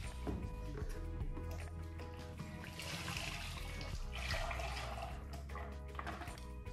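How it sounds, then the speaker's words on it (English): Liquid pottery glaze, mixed from a recipe with water, pours through a sieve into a bucket, giving a continuous close splashing and trickling that runs for several seconds. "Now we're going to pour it through the sieve."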